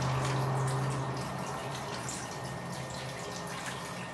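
Water runs steadily as a chlorine analyser probe is rinsed off, a continuous splashing and dribbling flow that stays close and fairly loud without pauses or voices.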